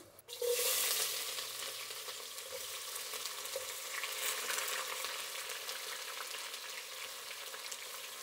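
Onions frying in hot oil with whole spices such as cardamom and cloves, a steady bright sizzle that flares loudly at first and then settles into a continuous close crackle, with no voices.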